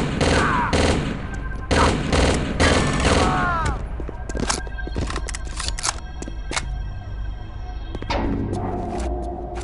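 Gunfire in the video game Chaser: rapid bursts of automatic fire and repeated sharp shots, loud and dense at first, then thinning into scattered cracks with ringing tails and brief mechanical clicks.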